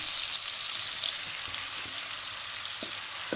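Capsicum and tomatoes fry in a pan with a steady, bright hiss of sizzling oil, close and continuous, with a few soft clicks of stirring.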